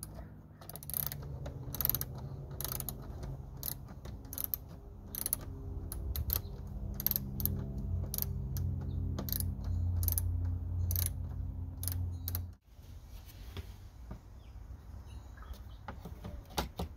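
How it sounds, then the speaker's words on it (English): A small hand ratchet works under a VW New Beetle dashboard during a blend door fix, giving rapid, close clicking bursts over a low hum. The clicking runs for about twelve seconds, then gives way to scattered quieter clicks. "This is when a little ratchet comes in handy."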